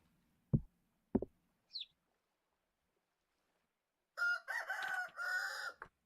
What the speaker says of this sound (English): We're gonna have a lot of the cockerel sounds, it seems like.